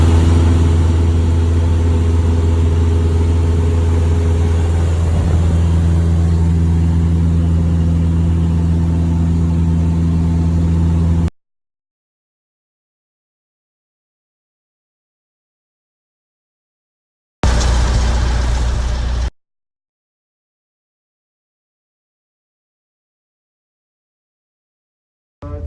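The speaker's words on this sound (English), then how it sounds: "World's biggest engine." An airplane engine runs with a loud, steady low drone for about eleven seconds, cuts to silence, then roars briefly again, with no talking.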